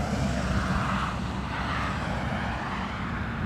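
A Delta Boeing 767 jet at Dublin Airport in a crosswind gives a steady, broadband engine roar with deep low rumble, continuous and fairly close throughout, with no voices.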